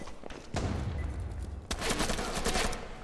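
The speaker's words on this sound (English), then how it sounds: "Robbie getting the wall bang as well." Competitive shooter match in which gunfire tears through a wall: rapid, dense bursts of shots, fairly loud and close, in two clusters with a short gap between them.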